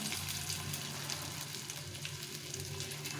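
Cabbage pakoras made with fish oil fry in a second round of hot oil, giving a continuous dense sizzle that stays even and close without any speech.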